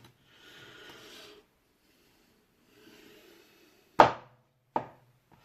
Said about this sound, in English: Maybe a chopping test.